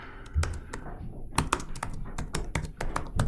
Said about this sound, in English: you type your name in here